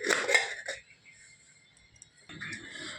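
A lid clatters onto a kadai of paneer being steamed for paneer bhapa, a brief metallic clinking at the start followed by near silence, then soft kitchen noise returning.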